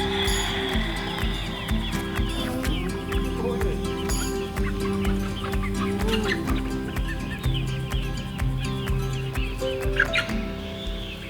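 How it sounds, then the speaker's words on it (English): Fourteen meat-bird roosters perched on a raised garden bed cluck and murmur continuously, several birds overlapping in short repeated calls at close range, with faint chirps in the background. "Here we got our 14 roosters sitting on top of one of our raised bed gardens"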